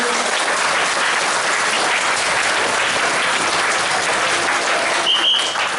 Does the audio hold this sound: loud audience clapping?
yes